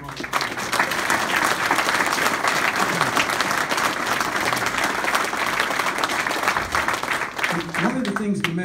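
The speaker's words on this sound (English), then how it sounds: "I want everyone to give a big round of applause." Sustained, loud crowd applause for the Sussex County sheriff at a congressional campaign event. Dense, even clapping fills about eight seconds, and a voice emerges near the end.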